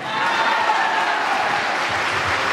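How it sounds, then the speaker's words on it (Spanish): Audience applause at a seniors' gathering with mate tea, a steady, dense wash of many people clapping together that holds at an even level throughout. "Más fuerte el aplauso."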